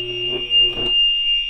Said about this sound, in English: Apparently the fire alarm is going off again.